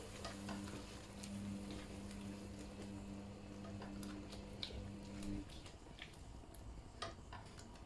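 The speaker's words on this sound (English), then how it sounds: "In with your passata. Give that a good mix in." Passata stirred into a chicken madras base sizzling in a pan, with steady frying hiss and scattered spoon scrapes and ticks, close and fairly quiet, the sizzle easing off partway through.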